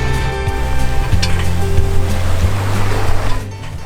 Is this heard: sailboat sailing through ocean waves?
yes